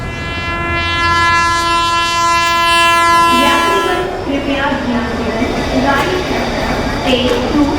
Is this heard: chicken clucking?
no